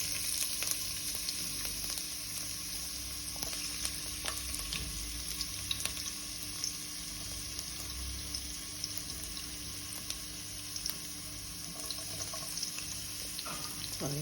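Ginger garlic paste sizzling in hot oil while vegetable fried rice is being made, a steady, fairly quiet crackle and hiss with occasional stirring scrapes and no talking.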